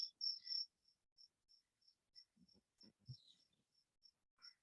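Cricket chirps repeating in a steady rhythm of short pulses, loud at the start and then fainter, with brief low thumps partway through.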